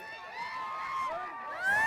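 A crowd in Raigad celebrates a Panchayat Samiti election victory, with faint, distant cheering and rising whistle-like shouts over a murmuring background.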